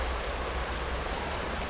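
A river flows steadily beside a small patch of woodland under light rain, a broad, even rushing wash that stays close and constant throughout, with no voices.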